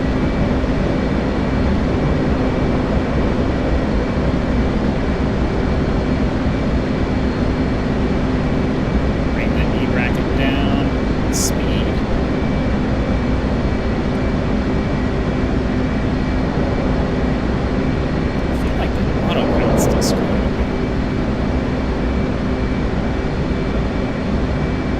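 Aircraft on final approach in a flight video game, landing gear and flaps lowered: a loud, steady engine and airflow roar runs unbroken throughout, with a few faint mechanical clicks and beeps partway through.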